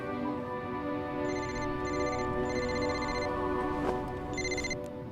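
A phone rings in repeated bursts of a bright electronic trill, steady and moderately loud over a constant background hum.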